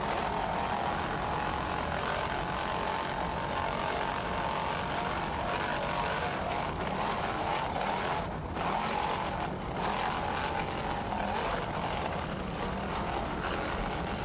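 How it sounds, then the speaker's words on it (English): An offshore racing boat powered by two 600-horsepower Bandit inboard engines roars past in a race, a dense, steady engine drone with broadband rush, heard at a moderate distance without talk. "Just listen to those two 600-horsepower Bandit inboards."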